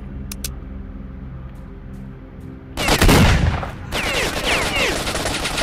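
Gunfire in the video game S.T.A.L.K.E.R. Shadow of Chernobyl: a few faint isolated pops at first, then a loud close burst of rapid automatic fire that keeps rattling on with slightly less force to the end.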